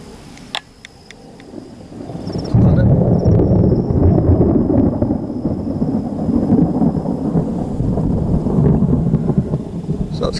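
Rumbling thunder from an approaching storm over wetlands, a low rolling boom swelling in after a quiet start and sustaining loudly to the end, heard from inside a car.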